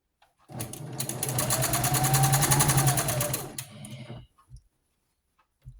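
A sewing machine runs steadily for about four seconds, stitching a scrap-fabric doll quilt with a quarter-inch seam, a close, rapid, even whirring clatter that stops abruptly and is followed by a few faint clicks.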